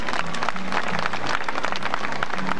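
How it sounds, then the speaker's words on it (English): Audience applause at a 1995 water ski show in West Virginia, a steady wash of many hands clapping at a distance, continuous and fairly even with no voices over it. "How about giving him a round of applause?"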